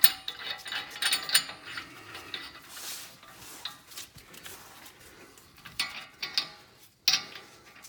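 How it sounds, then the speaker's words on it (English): Axle nut being fitted on a 2008 Honda Accord during an axle replacement: faint, close metallic ticking, ratcheting and clinking in irregular bursts, with a few sharper clanks of metal parts. "I'm gonna put the nut on here so the axle doesn't fall back through"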